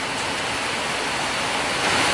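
Steady tropical rain falling on a garden, a thick unbroken hiss of drops that swells slightly toward the end, with no one speaking.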